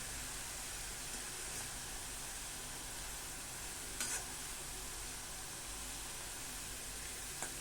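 Potato pieces fry in hot oil for sabudana chivda, a steady, faint, hiss-like sizzle that carries on evenly, with a couple of brief clinks, and no voices.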